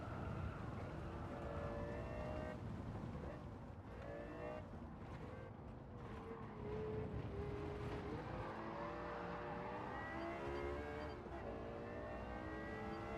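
Race cars in a racing video game drive around a track, engines droning and whining with shifting pitch throughout, steady and moderately loud with no pauses.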